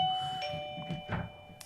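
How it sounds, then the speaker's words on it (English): A doorbell chimes with sustained ringing tones that slowly decay, heard at moderate volume with faint background rustling. "That was my doorbell."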